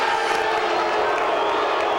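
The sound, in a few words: boxing crowd booing after the decision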